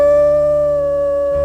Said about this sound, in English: Venus had that squeaky howl.